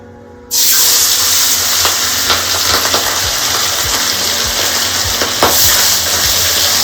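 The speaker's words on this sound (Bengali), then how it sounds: "আমি এবারে মাছগুলো তেলের মধ্যে দিয়ে দেবো।" Katla fish pieces dropped into smoking-hot oil burst into a sudden loud sizzle that stays strong and steady, with faint crackles and spatters throughout.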